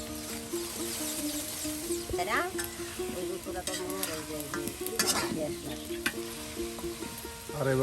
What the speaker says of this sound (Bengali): মাংসটা ভালো করে মশলা দিয়ে তেলে ভেজে নিচ্ছে